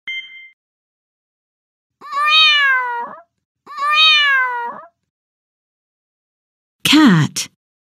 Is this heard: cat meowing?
yes